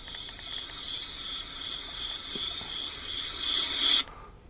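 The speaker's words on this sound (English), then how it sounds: "I like this one, the crickets." Crickets chirping from a small sound machine speaker, a steady continuous high trill that holds for about four seconds, swells slightly louder, then cuts off abruptly.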